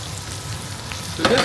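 Canned mushrooms sizzle steadily in a hot pan, a close, continuous frying hiss, with a brief clatter of stirring near the end.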